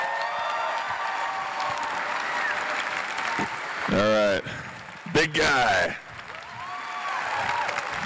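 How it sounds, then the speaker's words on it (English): Applause for Jason ringing through a Comic Con hall in Melbourne, a steady crowd roar of clapping and some cheering running throughout, while someone speaks briefly over it. "can we give Jason a big round of applause?"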